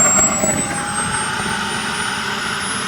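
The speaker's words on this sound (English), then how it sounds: "his turbine is spooling up and the sound is just as when you're sitting in an aircraft" A model jet turbine engine spools up with a rising high-pitched whine over a steady roaring rush, loud and close, in a continuous build without speech.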